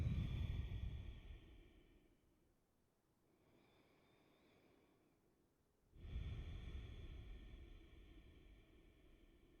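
Two slow, deep breaths taken during yoga practice: a long, airy inhale and exhale, a quiet pause, then another full breath close to the microphone.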